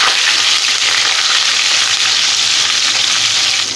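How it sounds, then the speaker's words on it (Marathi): Ginger garlic paste and curry leaves sauté in a hot pan, giving a loud, continuous hissing sizzle that stays steady and close throughout with no voices. "आता हे आलं लसूण पेस्ट आहे ती परतून घ्यायची आहे"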